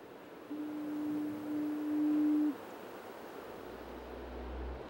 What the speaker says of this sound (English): Often shrouded in fog, its mighty foghorn was once heard in Bath